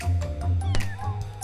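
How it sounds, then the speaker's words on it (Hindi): A kitten meows in a few short, high cries over a steady low hum, near and fairly loud, with no talk. "थोड़ी ही दूर एक प्यारा सा बिल्ली का बच्चा घूम रहा था।"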